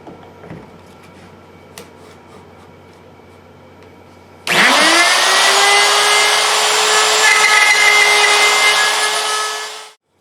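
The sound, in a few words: router with guide bushing cutting a wood mortise in jig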